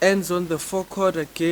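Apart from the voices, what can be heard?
None of the usual background noises is heard.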